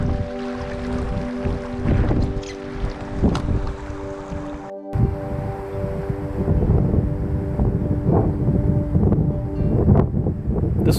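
Wind gusts buffet the microphone in the mountains near a lakeside fishing spot, a rough, rumbling roar rising and falling in irregular bursts over a steady background.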